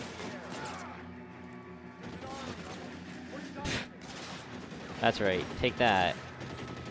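Gunfire in the LA Noire video game, several sharp shots and crashes over a steady game backdrop, with someone talking loudly throughout.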